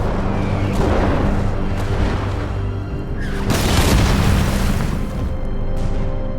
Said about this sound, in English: German artillery continues to fall on the Americans.